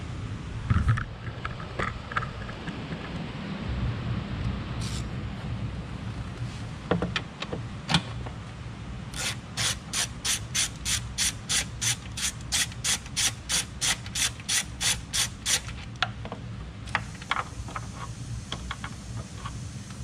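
A ratchet removes a 13 mm nut from the engine cover of a RAM or Jeep Wagoneer 3.0 twin-turbo, giving a close, steady series of about twenty rapid clicks over a rustling workshop background.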